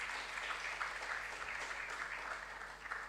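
Steady applause from a school audience at a regional junior science and maths quiz, a continuous wash of clapping at moderate distance with no speech over it.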